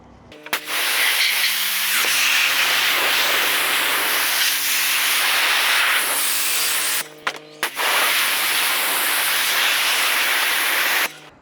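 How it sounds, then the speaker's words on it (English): Pressure washer spraying a salt-crusted WeatherTech floor mat, a loud steady hiss of water jet running nearly continuously, briefly cutting out near the end before resuming, with a faint motor hum underneath. "Let's get our pressure washer. We're gonna hose this off."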